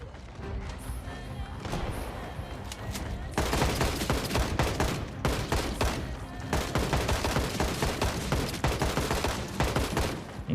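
Rapid, sustained video game gunfire rattles through the whole stretch, dense bursts of shots stacking over one another with a louder, busier barrage after the first few seconds.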